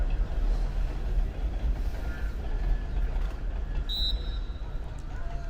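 A train roars past beside a youth soccer field in a steady, loud broadband rumble that holds for the whole stretch, with faint distant voices and brief high squeals mixed in.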